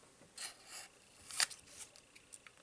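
Scissors cutting through material in a quiet room, a few faint, close snips and rustles.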